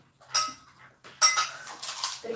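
A spoon clinks against dishes in two or three short, bright metallic taps with brief pauses between them, close and fairly quiet, followed by faint soft rustling.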